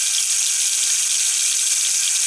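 Water runs steadily from a tap into a bathroom sink that drains slowly due to a clog, a constant bright hiss without pauses, close and fairly loud.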